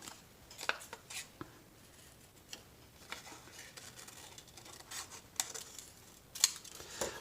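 Scissors cutting paper along a line, close intermittent snips and crisp clicks spread unevenly across the clip with soft paper rustle between, no talking.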